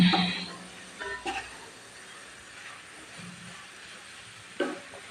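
Spinach fries in a pan with a faint, steady sizzle and hiss, broken by a few brief stirring clatters.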